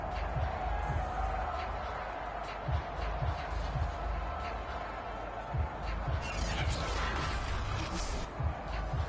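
A Madden NFL video game stadium crowd roars steadily at moderate volume, a broad continuous wash of noise with faint thumps, while a commentator talks over it.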